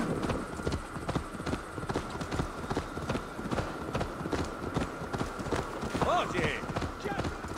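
Horse hooves gallop steadily in Assassin's Creed Valhalla, a continuous rhythmic clip-clop of fast hoofbeats close by, with faint game ambience underneath and a brief whinny-like tone near the end.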